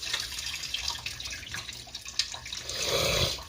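Water from cooked Paldo Fun n Yum volcano chicken instant noodles pours and splashes into a sink as it drains, a close, fairly quiet running trickle that swells louder near the end.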